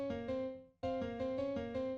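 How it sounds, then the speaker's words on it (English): Soft BBC orchestra piano chords ring with sustained tones, fade into a brief pause, then resume in a gentle repeating pattern. "second piano sounds like this. It's a BBC orchestra piano."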